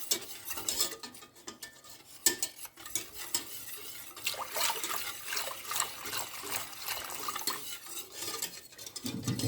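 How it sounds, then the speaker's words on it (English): A flour mixture is whisked steadily in a bowl as water is poured in, giving continuous scraping and clinking of utensil against the bowl with wet, sloshing swirls, close and fairly quiet with no talking. "Then add 1 cup of water while continue mixing it."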